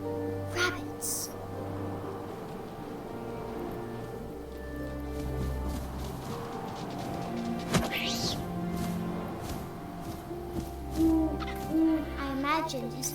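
An owl hoots repeatedly in the game What Remains of Edith Finch. The soft, low calls rise over a wind-like ambience with light rustling, and a voice speaks in places.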